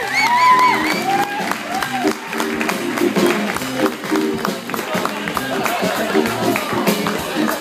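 Concert audience applauding and cheering for a guitarist, with sustained close clapping, whoops and shouts rolling through the room, loud and steady throughout.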